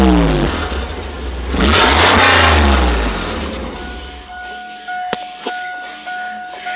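A car with the back half of its exhaust removed revs hard, a loud raw engine roar that swells, peaks and drops back toward idle, followed by a few clicks and tonal whines.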